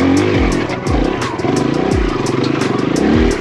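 A Kawasaki KLX140RF dirt bike engine revs loud and close in repeated throttle bursts with falling pitch sweeps between them, a rhythmic motor growl during wheelie practice on a trail.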